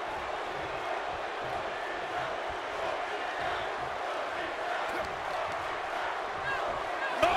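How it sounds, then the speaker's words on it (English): A packed WrestleMania arena crowd at a WWE match produces a constant, dense roar that holds at a loud, even level throughout, swelling slightly at the very end. "The roar of this crowd has been building"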